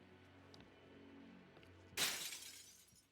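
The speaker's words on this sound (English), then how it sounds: "glass break sound" Glass shatters in Batman: Arkham Knight with a single sudden bright crash that sprays and decays over about a second, following a stretch of low game ambience.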